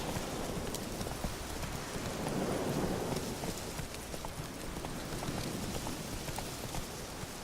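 In the game The Witcher 3, the horse Roach is ridden through rain, with soft hoof clip-clops under steady rainfall and a faint distant rumble, all fairly quiet.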